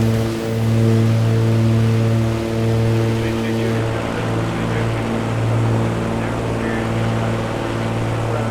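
A propeller airplane engine in a flight simulator video game drones loudly and continuously, a steady low throbbing hum with a rough, noisy wash over it and no speech.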